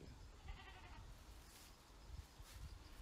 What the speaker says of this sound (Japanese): ヤギが超鳴いてる